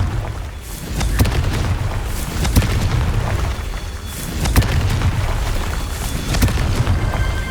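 Confringo blasting-spell explosions in the video game Hogwarts Legacy, loud booming bursts over a dense, rumbling combat din, with several sharp impacts in a row.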